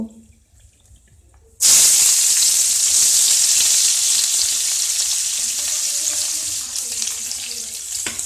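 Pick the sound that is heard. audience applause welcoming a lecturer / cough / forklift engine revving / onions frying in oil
onions frying in oil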